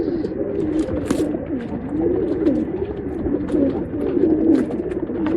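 A male Guldar pigeon in a Bangalore loft coos in repeated low rolling phrases, close and fairly loud, with other pigeons faintly around and no talk.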